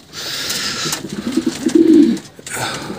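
Young pigeon squab cooing close by, a burst of soft low coos building in the middle and fading, over faint background hiss.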